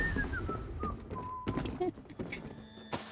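Xander, a character in Elder Scrolls Online, whistling a short wavering tune in the game world, thin melodic tones with small thuds and clatter around them, moderately close.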